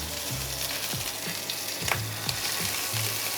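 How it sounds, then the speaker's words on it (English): Steady sizzling of meat frying in a hot pan, a bright hiss throughout with occasional pops and scraping movements. "If you don't get the sizzle on it like that when it hits"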